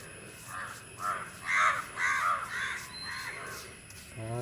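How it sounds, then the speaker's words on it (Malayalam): Several crows caw in repeated harsh bursts around a garden lily pond, loud and fairly near, with a steady background hum and no talk over them. "കാക്കകളെ ശല്യം വല്ലാതുണ്ട്"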